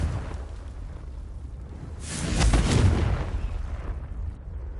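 A spell-cast explosion in Hogwarts Legacy erupts midway as a single heavy, booming blast that swells and then fades out, set against a low ambient background with no talking.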